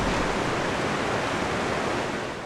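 Continuous rushing water of a river along the Great Divide Trail, a dense, even wash of sound held close and loud throughout, with no voices.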